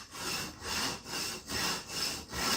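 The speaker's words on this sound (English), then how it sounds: "So I'm going to put this in the sharpening stone and just run that through" A knife blade being run through a sharpening stone, giving five evenly spaced rasping strokes in a steady back-and-forth rhythm. It is close and moderately loud, with no voices.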